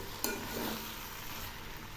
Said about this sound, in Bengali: এই ডালিয়াগুলো এই সবজির সঙ্গে ভালো করে ভেজে নেব